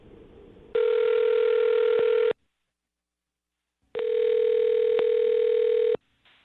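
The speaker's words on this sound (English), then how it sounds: "I'm going to dial the phone over right now" A telephone line rings back in long steady electronic tones, two sustained bursts separated by silence, clear and close with no talking.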